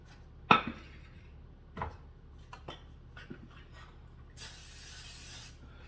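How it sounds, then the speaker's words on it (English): A short steady hiss of cooking spray lasting about a second, following a few scattered clicks and knocks, close and fairly quiet. "Spray them down a little bit."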